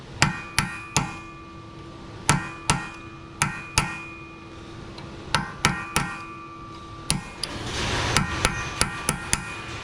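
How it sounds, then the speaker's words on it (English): A metal punch struck with a hammer to stake the axle nut of a Subaru wheel bearing: a dozen sharp, ringing metallic blows in uneven groups, close and loud, with a faint hum behind them. "you can just hit down, get a punch or something, screwdriver, and then we're just trying to flatten this into this crevice"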